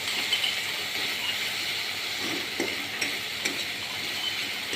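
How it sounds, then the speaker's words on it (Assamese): Spice paste frying in a pan for chicken curry, a steady close sizzle broken by soft scraping stirs and a few light knocks of a spatula, with no talking. "কিছু সময় ভাজি আছোঁ।"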